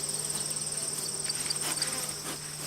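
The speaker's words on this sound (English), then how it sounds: "we're going to go over to the other hive" Honey bees buzz at backyard beehives, a steady, fairly quiet hum with overlapping insect drones and no voices.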